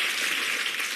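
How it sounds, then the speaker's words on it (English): Studio audience of a British comedy panel quiz show applauding, a brief, steady wash of dense clapping heard alone at moderate level. "Round of applause."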